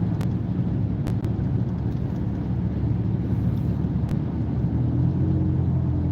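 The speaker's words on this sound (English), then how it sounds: "Cruising at 50, real smooth, easy drive." A car cruising smoothly at 50 sends a steady low road and engine rumble with wind noise through the cabin, constant and unbroken with no talking.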